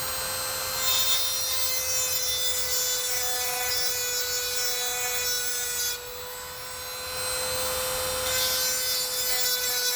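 A rotary engraver sharpening a medical instrument gives a steady high-pitched whine with a continuous grinding rasp, close and alone, easing briefly before resuming.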